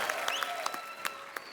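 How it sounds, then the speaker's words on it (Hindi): A studio audience on The Kapil Sharma Show claps steadily and loudly, a dense wash of applause with a few sharper claps and faint whistles poking through. "आप सबकी जोरदार तालियों के बीच"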